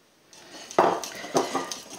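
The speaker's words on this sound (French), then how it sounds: "On remue." A utensil stirs lemon cake batter of flour and sugar in a bowl, giving a few brief clinks and scrapes against the bowl in a short burst, close up and with no talking.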